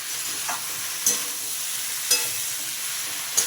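Pointed gourd (potol) stir-fried with spices in a pan, a close, steady sizzle with a few distinct spatula scrapes and knocks spaced about a second apart.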